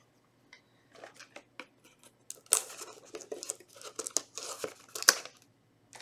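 Cardboard and foil wrapping torn and crinkled by hand while opening Rivals for Millenia card game boxes and packs, a close, quiet run of irregular rips and crackles with short pauses.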